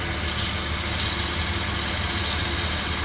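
Steady mechanical running noise from the serpentine belt area of a 2000 Porsche Boxster 2.7 engine, a continuous close, broadband whir and hum with an even level throughout and no speech.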